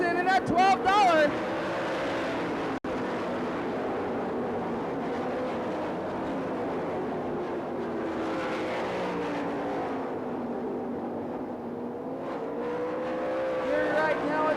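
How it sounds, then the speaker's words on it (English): Sprint race cars roar around the dirt oval at the 1997 Knoxville Nationals, their engines loud and continuous with rising and falling pitch as they pass, under a race announcer's steady commentary. "Huntley closes in on Richard Jr. down the back chute"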